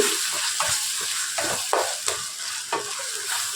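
Tomato sautéing in oil in a pan for a brinjal curry, with rhythmic spatula scrapes over a constant frying hiss, close up and without any talking.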